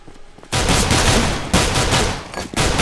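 Pistol fire in Counter-Strike on the Mirage map: a loud, dense burst of rapid shots erupts after a brief quiet start, with sharp cracks repeating in quick bursts and no talk over it.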